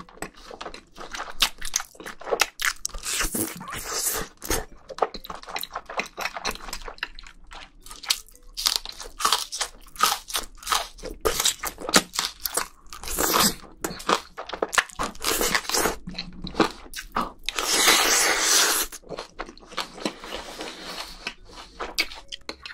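Black bean noodles being eaten close up, with repeated wet slurps, chewing and soft crunchy bites in irregular bursts, with no talking.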